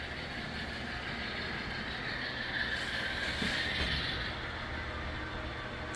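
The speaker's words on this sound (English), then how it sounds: "the train is successfully back into staging." A model train rumbles along layout track with a steady mechanical whir and faint metallic squealing, fairly quiet and continuous.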